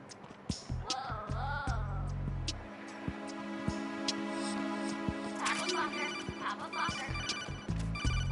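An incoming codec call rings in Metal Gear Solid 2, a repeating electronic ringtone with steady tonal chimes that continues for several seconds over game music and effects.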